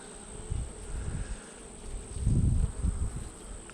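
Honeybees hum around an opened hive during a swarm installation and inspection, a steady close buzz that swells in low, dense bursts as the colony moves over brood comb.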